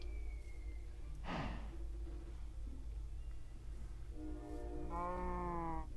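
Mooshroom cows in Minecraft's mushroom biome give a few low, drawn-out moos, the last one longer and clearer, heard faintly over a steady rumbling background.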